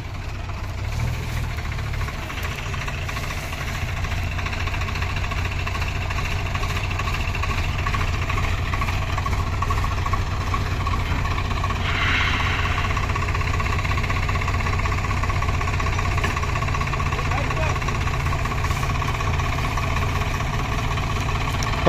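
Tractors strain to pull a sugarcane trolley stuck in rain-soaked mud, their engines giving a heavy, continuous low drone with knocking vibration, loud and unbroken throughout.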